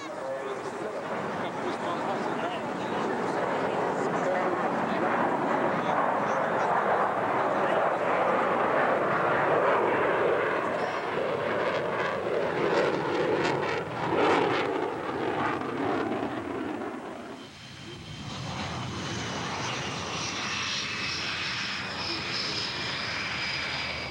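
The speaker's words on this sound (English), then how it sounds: "This is ex-MiG pilot Anatoly Kvochur, now flying Su-27s, making a low-speed pass at a very high angle of attack" A Sukhoi Su-27 jet, flown by an ex-MiG pilot, makes a low-speed pass at a very high angle of attack with a loud, sustained engine roar that builds, then drops away into a thinner whine as it passes.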